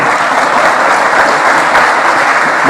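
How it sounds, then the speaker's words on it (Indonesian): Audience applause at a national-dialogue stage event welcoming a featured guest, a dense, steady burst of clapping from a crowd lasting a few seconds. "Tepuk tangan."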